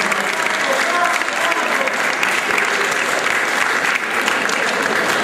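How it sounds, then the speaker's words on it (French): A crowd at a regional sports awards ceremony applauds continuously for several seconds, a dense steady round of clapping that stays loud throughout. "Vous pouvez l'applaudir."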